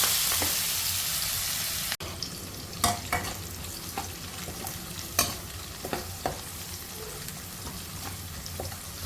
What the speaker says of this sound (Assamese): সেইখিনি তেলতে মই পিঁয়াজখিনি ঢালি দিলোঁ।